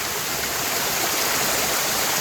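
Continuous loud rush of a small waterfall pouring in a thin line down steep rock in Khlong Prap, Thailand, a dense even roar close by with no other sounds.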